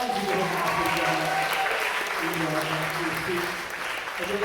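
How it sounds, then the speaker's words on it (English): Audience applause at a high school stage hypnosis comedy show, steady clapping throughout with someone talking over it. "Give her a big round of applause."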